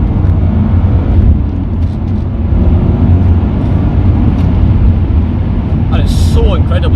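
The engine of a 2002 Subaru Impreza STI Limited drones as a steady, loud low rumble heard from inside the car on a ride along, with road noise throughout.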